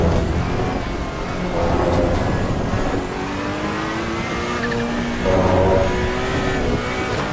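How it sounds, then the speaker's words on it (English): Race car in the video game Assetto Corsa EVO at Spa, engine droning loudly with rising and falling turbo whistle tones over steady road and tire noise. "How good's that turbo whistle?"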